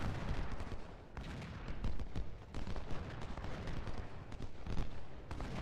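Continuous distant battlefield rumble from the game Ultimate General: Civil War, with repeated booms of artillery fire and crackling volleys rolling in waves at moderate volume.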